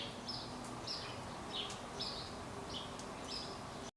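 Faint, short chirps from a small bird on a roof repeat every half second or so over a steady low hum of background noise.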